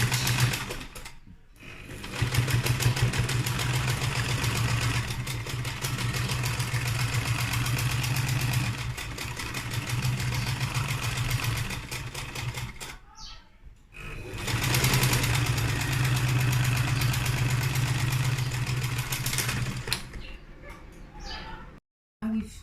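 An electric sewing machine stitches a seam in turban fabric, a steady whirring run that stops and starts in two long bursts with short pauses between them, loud and close, with faint speech in the background.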